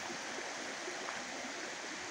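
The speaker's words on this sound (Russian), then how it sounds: "Два ручья стекаются вон туда, второй ключ ручей" Two streams join and flow together by a small footbridge at Mariánské Lázně in the Czech Republic, giving a steady, even rush of running water with no voices.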